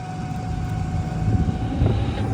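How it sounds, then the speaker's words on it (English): An airplane climbing out of LaGuardia airport passes over the East River near Rikers Island, a steady low engine roar with a droning tone that swells slightly toward the end, heard from a distance over wind and water. "you hear the planes coming out of LaGuardia."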